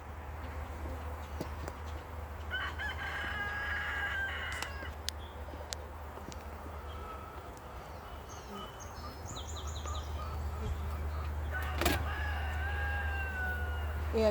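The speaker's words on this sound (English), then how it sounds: "you're going to hear that rooster getting all excited over there" A neighbor's rooster crows a few times from a distance outdoors beside a beehive, over a constant low hum, with faint bird chirps in between.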